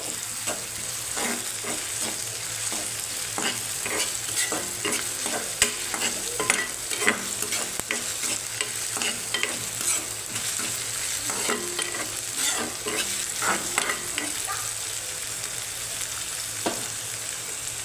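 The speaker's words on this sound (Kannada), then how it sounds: "ಸೇರಿಸ್ಕೊಂಡ್ಬಿಟ್ಟು ಇದನ್ನು ಹಸಿ ಸ್ಮೆಲ್ ಹೋಗೋವರೆಗೂ ಚೆನ್ನಾಗಿ ಹುರ್ಕೋಬೇಕು" Ginger garlic paste fries and sizzles in a pan while being stirred, a steady hiss under repeated scraping clicks of the spoon throughout, with no talking.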